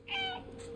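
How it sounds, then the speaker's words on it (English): One short, clear meow from the cat in the video game Stray, close and fairly loud, rising then trailing off, with no voices. "Meow, meow, meow."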